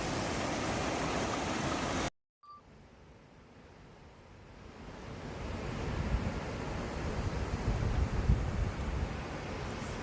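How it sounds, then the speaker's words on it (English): Waterfalls at Wadi Darbat pour as a steady broadband rush, briefly cut to silence and then swelling louder and closer over the last several seconds, with no talk. "You see those waterfalls right there, Bubba?"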